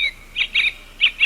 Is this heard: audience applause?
no